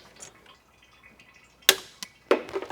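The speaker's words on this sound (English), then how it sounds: "now I broke my Snap-on hose clamp pliers" Plastic Snap-on hose clamp pliers snap and break with a few sharp, close cracks and clicks in an otherwise quiet workshop, following near-silence.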